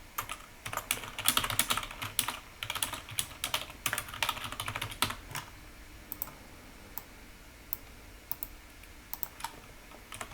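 Rapid typing on a computer keyboard, close and clear, with dense bursts of key clicks for about five seconds that thin out into sparse, scattered taps.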